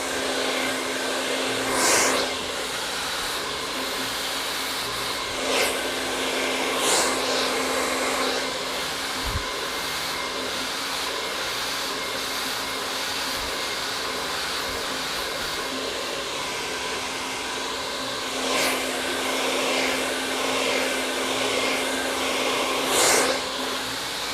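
Hair dryer fitted with a nozzle blow-drying curly hair in small sections, a steady close airflow roar running the whole time with slight surges as it moves, no talking.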